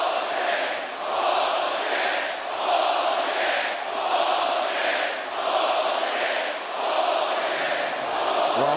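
Arena crowd at an MMA event booing after the BMF title fight is stopped by the doctor, a loud sustained roar rising and falling in rhythmic waves throughout.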